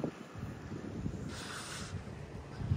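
Strong wind gusting at a newly opened petrol pump, a steady broadband roar with buffeting microphone rumble that swells midway and never lets up.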